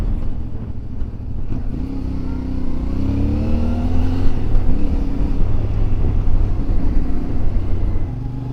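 A CFMoto 450 MT motorcycle engine rumbles loud and close, its pitch rising and falling as the rider slows under braking and picks up again, with no speech.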